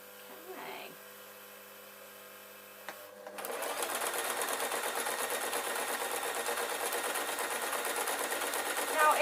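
After a faint knock and brief quiet, a sewing machine starts up and runs steadily, stitching the waistband of an adult Scottish kilt with a fast, even mechanical chatter, close and continuous until the end.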